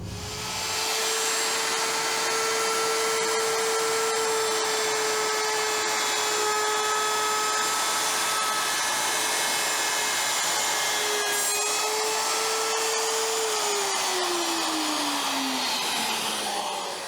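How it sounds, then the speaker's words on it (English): A router fitted with a bearing-guided bit cuts plywood with a loud, continuous high-pitched whine that holds steady for most of the stretch, then dips in pitch as the motor slows near the end. "And that plywood there will limit how far this router cuts."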